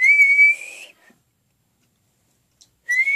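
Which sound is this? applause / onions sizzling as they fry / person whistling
person whistling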